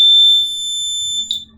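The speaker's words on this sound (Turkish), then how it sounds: "Gelip biz burayı kapatmadığımız sürece bu alarm çalmaya devam edecektir" A homemade laser alarm circuit emits a loud, piercing continuous electronic tone that holds steady, then dips slightly and cuts off near the end.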